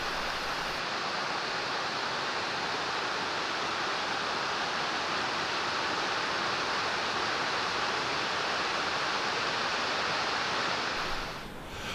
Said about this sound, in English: As the limestone barriers appear, waterfalls appear.